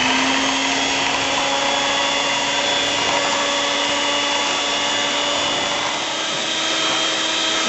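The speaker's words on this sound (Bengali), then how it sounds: "হুইপিং মেশিন দিয়ে এটাকে মিক্স করতে হবে।" An electric whipping machine mixes oil and sugar together for a carrot cake batter, a steady, loud motor whir with a grainy rubbing texture running continuously without pause.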